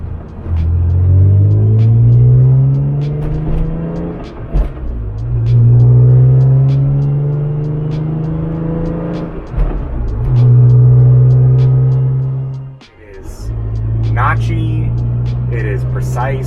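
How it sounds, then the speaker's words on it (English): A BMW M3 fitted with a new short shifter drives along with a steady engine drone that rises through the gears, the pitch dropping at each of several shifts. The engine sound is loud and close, heard from inside the cabin. "so we are on our way home, driving with the new shifter"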